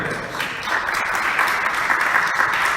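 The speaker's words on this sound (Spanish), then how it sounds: "Den un fuerte aplauso a Él, hermanos." Congregation in a church applauding, dense continuous clapping from many hands, loud and close, holding steady throughout with no voices over it.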